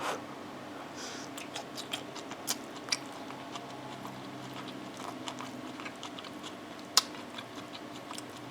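Someone quietly chews a mouthful of crunchy Penang-style char kway teow with bean sprouts, producing soft irregular crunches and a sharper bite near the end.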